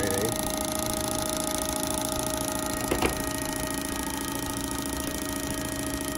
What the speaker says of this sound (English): I just got done cleaning my injectors from 8-1. Let's test these bad boys.